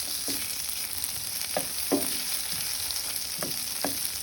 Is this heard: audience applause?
no